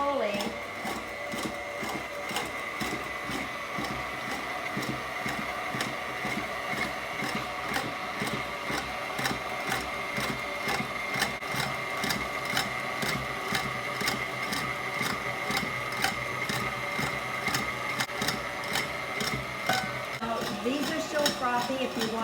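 Stand mixer whipping meringue for Italian meringue frosting, a steady mechanical whir with a fast rhythmic whisk beat running throughout at moderate volume while a person talks.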